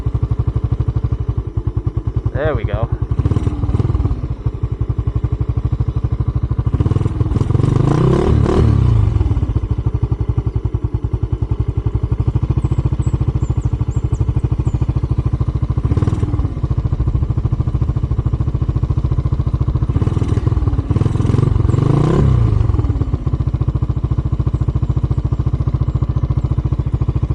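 A Skygo Boss 150 motorcycle, its carburetor idle turned down, runs at a low steady idle with several throttle blips and revs rising and falling; someone briefly speaks nearby.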